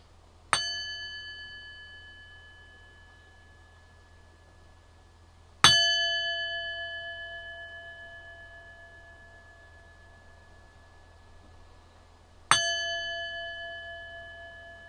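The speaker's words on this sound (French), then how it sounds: "Le bruit de cette cloche avec le bruit de la pluie qui tombe." A bell is struck three times at widely spaced intervals, each a clear bright ring with a long shimmering decay fading slowly in an otherwise quiet setting, with no talk.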